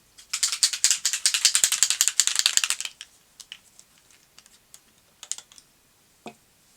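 Sewing machine stitching through a paper scrapbook page in a rapid, dense run of needle clatter for about three seconds, then sparse clicks and handling taps.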